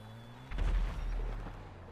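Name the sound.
rocket fired in GTA 5 Online, a video game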